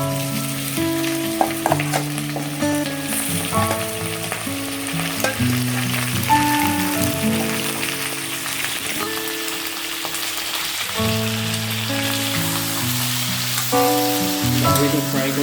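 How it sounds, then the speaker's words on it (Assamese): Pork frying directly in a 20-year-old blackened wok for a Bodo pork and black lentil dish, a steady close sizzle with scraping stirs throughout, joined by a continuous melodic background tune. "তো মই গাহৰিটো ডাইৰেক্ট ফ্ৰাই কৰিম"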